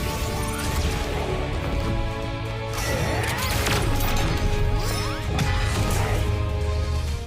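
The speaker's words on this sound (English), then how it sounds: "how they do the swords clashing and all of the different sound effects" Sword clashes and sword-skill sound effects from the anime Sword Art Online Progressive, with repeated metallic strikes and swishes layered over a dense, loud, continuous score.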